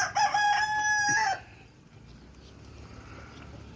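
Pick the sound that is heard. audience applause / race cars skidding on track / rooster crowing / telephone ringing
rooster crowing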